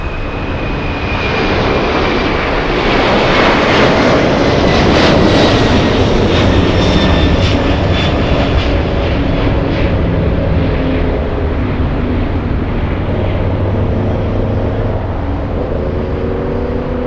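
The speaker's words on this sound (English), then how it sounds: "Pretty takeoff. A lot of condensation over the wings." A Western Global Boeing 747 takes off at LAX, its jet engines producing a loud, continuous roar that holds steady throughout with a faint whine riding on top. No one talks.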